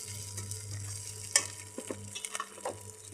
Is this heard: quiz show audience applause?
no